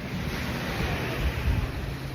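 Sea waves wash onto a beach in Ravda, Bulgaria, a continuous broad roar of surf mixed with wind noise on the microphone, with no voices.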